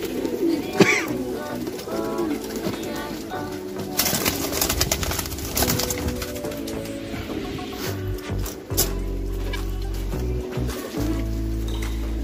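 Racing pigeons, including Madras birds, are kept for sale at a house and coo in repeated soft, low calls, with occasional rustles and handling noises nearby.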